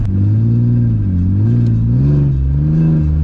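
A Nissan S14 engine held at steady throttle while driving, a loud close droning rev with gently wavering pitch and no talk over it.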